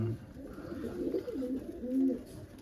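Pigeons coo in low, rolling bursts near a backyard loft during a hobby pigeon release, several soft overlapping calls close by with faint background noise.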